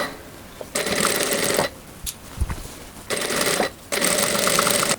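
A sewing machine stitches linen fabric along a magnet seam guide in three rapid mechanical bursts, each about a second long, separated by short quiet pauses.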